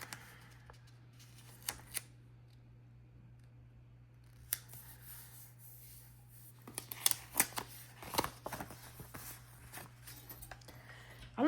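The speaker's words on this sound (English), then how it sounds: "I have chosen to use like these micro scissors to trim these sides off" Small micro scissors snip repeatedly at close range, trimming the sides off planner stickers, a few scattered cuts early and then a quicker run of crisp clicks, with faint rustling of paper between.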